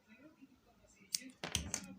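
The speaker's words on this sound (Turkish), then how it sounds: "Ve hemen makasımla antenleri düzeltiyorum." Scissors snip the antennae of a small crocheted yarn butterfly, two or three quick close cuts over faint soft background sound.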